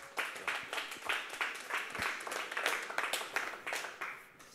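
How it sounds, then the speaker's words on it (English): An audience at a tech talk gives scattered, moderately quiet applause for the speaker, with distinct individual claps pulsing throughout the short burst. "So you guys give a warm round of applause to Colin."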